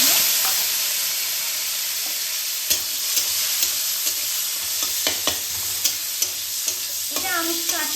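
Dried raw mango pieces (aamsotto) sizzle and fry steadily in a pan, a continuous hiss broken by sharp clinks of a stirring spoon, close and alone with no talk.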